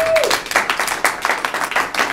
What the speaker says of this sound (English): big round of applause for Gary